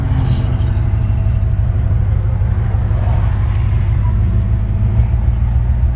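A 1954 Chevrolet 3100 five-window pickup with an automatic shifter rumbles steadily from inside the cab while driving, a constant low engine and road drone with no breaks.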